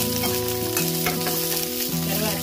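Onion pieces fry in hot tempering oil with peanuts, a steady close sizzle that runs evenly throughout, overlaid by sustained tonal background music.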